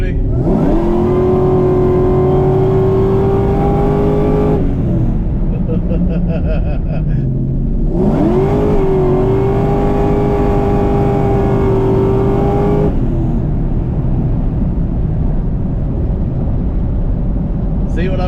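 A Ford Mustang Mach 1 on Nitto street tires with a 6R80 transmission and transbrake launches hard twice, each time a loud, close engine roar climbing and holding for several seconds before dropping back to idle, with someone talking.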